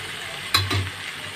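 Spice paste frying with boiled cabbage as a spatula stirs it in a pan, a brief scrape and clatter over a soft background sizzle, close by with no voices.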